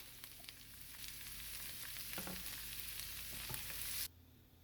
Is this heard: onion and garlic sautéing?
yes